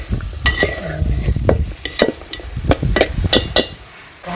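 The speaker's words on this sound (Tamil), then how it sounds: "காய் நல்லா வதங்கின பிறகு சாம்பார் காய், சாம்பார் காய் நல்லா வதங்கவும்" Brinjal and carrot pieces sauté for sambar, a spoon scraping and knocking against the pan in a quick irregular rhythm over a soft sizzle, close and fairly loud.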